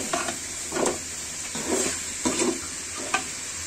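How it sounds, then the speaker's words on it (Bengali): Chicken pieces cooking in a pan with ground spice paste of cinnamon, cloves, pepper, ginger and onion, plus whole cinnamon and cardamom: soft sizzling with several bursts of stirring and scraping, close and moderate in level, no talk. "এখানে আপনার সবগুলো মশলা একসাথে দিয়ে মাংসটা একসাথে বসিয়ে দেওয়া হচ্ছে।"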